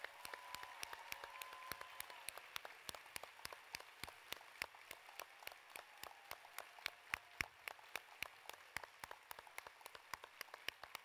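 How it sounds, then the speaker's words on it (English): Scattered, quiet clapping from a dinner audience at a mental health symposium in Oklahoma, thanking the servers; distinct individual claps rather than a dense roar, with a faint voice early on. "with a thunderous applause, thank all of our servers"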